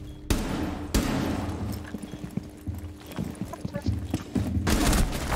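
Rainbow Six Siege gunfire: two sharp loud shots stand out early, followed by a cluttered run of quicker clattering shots and game noise over a continuous roar, with a louder burst near the end.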